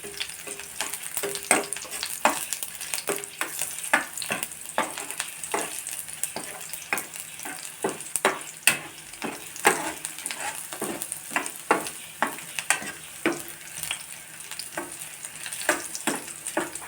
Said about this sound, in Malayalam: ഈ വെളുത്തുള്ളി ഒന്ന് നന്നായിട്ടൊന്ന് മൂക്കട്ടെ.